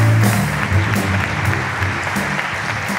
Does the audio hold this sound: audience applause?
yes